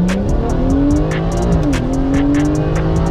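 A stock car on a 0-100 km/h acceleration run, BMW 340 or Infiniti Q50, engine rising in pitch with audible gear shifts, loud and close, steady revving throughout.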